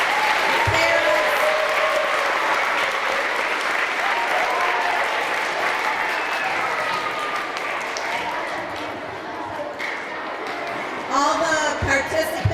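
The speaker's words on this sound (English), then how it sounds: "big round of applause for all the host families, the parents" An elementary school assembly crowd gives a sustained round of applause for host families and parents, dense clapping from many hands that holds steady, eases slightly, then swells again near the end.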